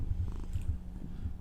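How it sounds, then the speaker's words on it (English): A cat purrs up close, with soft rhythmic low pulses repeating steadily and no talking. "Can you purr into the camera or the mic?"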